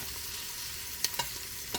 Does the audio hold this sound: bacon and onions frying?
yes